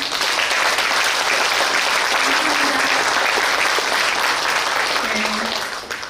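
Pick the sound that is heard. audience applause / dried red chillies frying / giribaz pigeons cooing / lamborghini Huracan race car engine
audience applause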